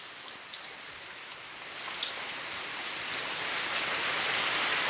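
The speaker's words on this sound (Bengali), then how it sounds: "অনেক জোরে বৃষ্টি হইতেছে" Heavy rain pours down steadily outside a home on a rainy day, a dense and even hiss that swells a little louder toward the end, with no voices.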